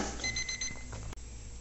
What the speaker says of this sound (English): And there's a timer beeping there.